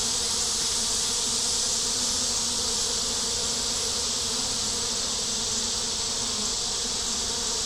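Honey bees swarm in a dense, steady buzz outside a hot hive, loud and continuous throughout with no voices.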